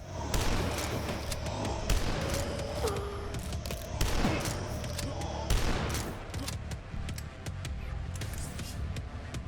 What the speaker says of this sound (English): Gun sounds are punchy and impactful.